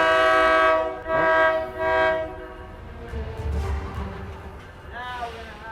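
A train horn blasts loudly several times as the train rolls past, the horn fading into rumbling wheels before a final shorter honk.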